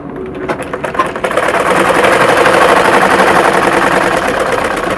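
A household sewing machine stitches fabric at steady speed, a close, continuous mechanical whirring with rapid needle clatter that starts up after a brief pause.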